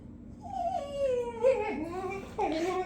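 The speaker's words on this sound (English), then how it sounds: "You have a dog making noise." A dog whimpers indoors in a long, wavering whine that bends up and down, then breaks into a second higher whimper near the end, fairly close and alone.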